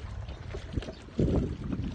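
Strong gusts of wind buffet the microphone in rough, rumbling bursts beneath a bridge over the Abra River, growing louder toward the end.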